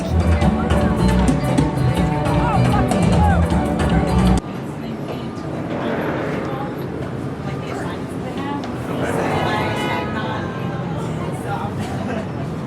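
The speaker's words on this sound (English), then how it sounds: "We ride the subway around." A subway train rumbles along with a steady mechanical roar and rattling, while voices chatter loudly over it for the first few seconds.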